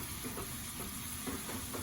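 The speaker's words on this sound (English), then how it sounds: "So very, very, very, very light saute here. I can still smell the rawness of the onions" Onions sauté lightly in a pan, a soft, steady sizzle with faint stirring scrapes, quiet and close.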